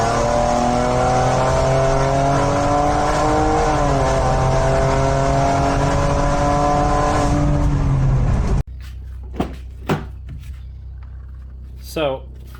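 Modified Ford Taurus SHO with a built Gen 3R engine and upgraded turbos pulls hard under sustained acceleration, its loud rising engine tone climbing steadily for about eight seconds before cutting off abruptly, followed by quieter cabin sounds and brief voices.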